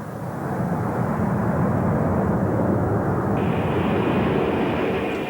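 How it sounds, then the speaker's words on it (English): A Lockheed L-1011 TriStar wide-body jet with three Rolls-Royce RB211 engines, in Saudi Arabian Airlines service: a loud, sustained, rumbling jet-engine roar that holds steady throughout, with a higher whine joining partway through. "Powered with 3 powerful Rolls-Royce RB211 jet engines."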